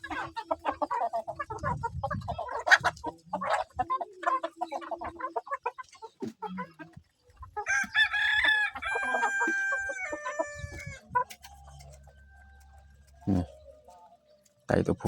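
A farmyard flock of chickens clucks while a rooster lets out a clear crow midway, with scattered bird calls and voices talking around the birds.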